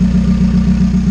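A turbocharged Honda Prelude with an F20B engine idles steadily, a loud, even low rumble with a slight rhythmic pulse and no talk.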